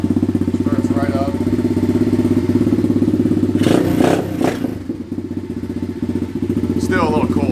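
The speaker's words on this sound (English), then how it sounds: "I'll go ahead and turn the key here, hit the on button, flip out the kick starter. Now let's our electric start" A 2015 dirt bike engine runs after an electric start, idling with a steady rapid putter, then blipping briefly with a clattery rev before settling back to idle.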